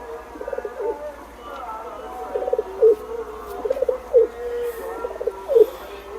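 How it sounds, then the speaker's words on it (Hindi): Pigeons in a loft at night give repeated low, throaty coos in short bursts, heard close by over a faint background hum and chirping insects. "ये इनके रिजल्टेड वाले कबूतर हैं"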